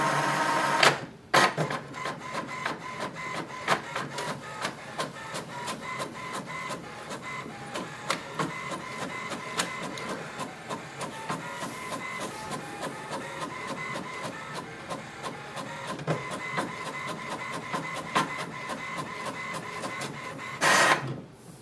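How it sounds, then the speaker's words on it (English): An HP DeskJet Ink Advantage 6075 inkjet printer runs a welcome sheet, producing a continuous mechanical whir with rhythmic print-head passes and clicks, bracketed by louder paper feed bursts at the start and end. "You can also print a welcome sheet."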